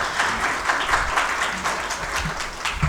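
Audience applause at an award ceremony where a shield is being presented, a full room of hands clapping steadily and fairly loudly, with occasional heavier claps and a low murmur beneath.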